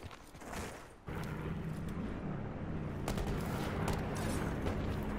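Gunfire in Call of Duty Blackout, a sudden loud burst of shots and blasts kicking in after a quieter moment and staying dense and close for the rest of the clip.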